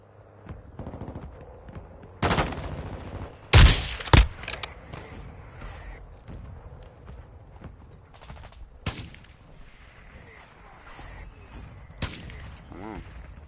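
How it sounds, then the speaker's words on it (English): Friendly mortar strike in the video game Modern Warfare 2: scattered heavy blasts and thumps over constant battlefield gunfire, with a pair of strong impacts near the middle and sharper cracks later. "Friendly mortar strike inbound."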